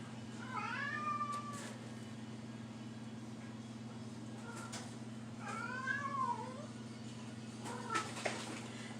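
A cat meows twice, drawn-out and wavering, over a steady low engine-like hum in the background.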